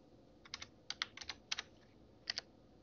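Keys on a computer keyboard are tapped to enter a password, a quiet, sparse run of about a dozen light clicks in small bursts with gaps between.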